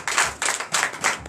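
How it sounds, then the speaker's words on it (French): A church congregation at a Sunday service claps in four quick rhythmic bursts, loud and close, with no talking over the clapping. "Donnez l'acclamation aussi."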